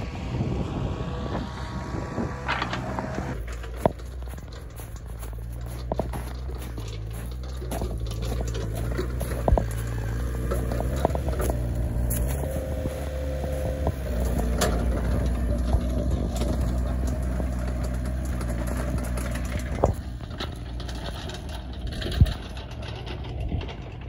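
A snowmobile runs laps on a homemade backyard snocross loop with turns, a big jump and a snowbank landing, its engine droning steadily throughout with wind rush and occasional sharp knocks.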